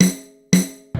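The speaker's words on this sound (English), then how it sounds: "This is the sound of snare drum." A snare drum hit cracks sharply twice, half a second apart, each ringing briefly before fading, with the start of a third at the end.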